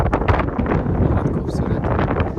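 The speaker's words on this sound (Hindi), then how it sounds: "इतनी तेज़ हवाएं चल रही हैं कि मैं आपको बता नहीं सकता हूँ।" Strong wind buffets the microphone on Gurpa Hills in Bihar, a loud, continuous roar with gusty rumbling and rustle, close and steady throughout.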